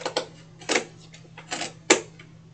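Scissors snip through board for a Dollar Tree notecard station: a handful of sharp, crisp cuts close by, spaced irregularly with quiet gaps between them.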